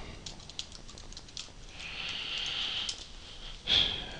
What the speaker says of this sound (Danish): Jeg skriver print hej og, og prøver at få gemt det her